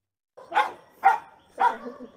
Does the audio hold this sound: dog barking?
yes